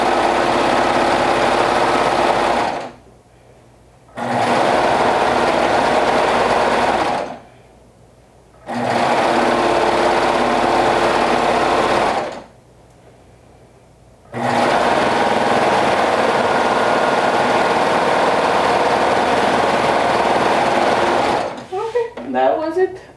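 A sewing machine stitches along a dress collar, running in steady whirring bursts of a few seconds each, separated by short pauses; the motor hums loud and close, and some handling noise follows at the end.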